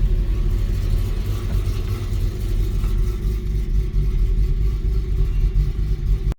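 A Nissan G37 engine with a suspected cam misfire runs close by, a steady deep rumble with slightly uneven pulsing throughout and no talk over it, then cuts off abruptly at the end.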